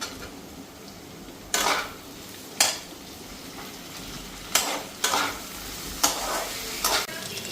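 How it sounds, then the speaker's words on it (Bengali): Potatoes, okra and green chillies stir-frying in a pan: a steady low sizzle under repeated sharp scrapes and clatters of a spatula against the metal pan, close and fairly loud, with no one talking. "আলুটা হালকা ফ্রাই হয়ে গেছে, এখন ভেন্ডিটা আর কাঁচা লঙ্কা এক লগে দিয়ে দিই।"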